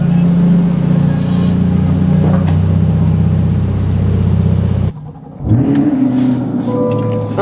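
A Chevrolet Corvette C8 idles in a shop with a steady, loud engine rumble, then revs briefly as it is moved; no talking.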